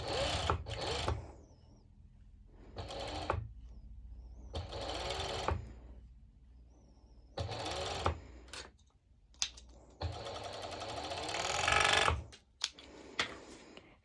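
Serger sewing machine stitching fabric with elastic, a close whirring mechanical buzz in several separate bursts of one to two seconds, with quiet gaps and small clicks between runs.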